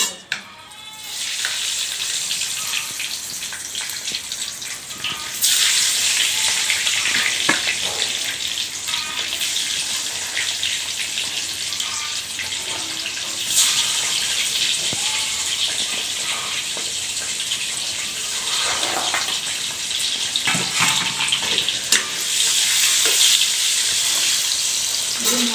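Eggs fry in oil in a pan with a continuous close sizzle and crackle that swells in intensity, broken by occasional stirring knocks.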